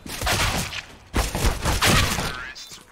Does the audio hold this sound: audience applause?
no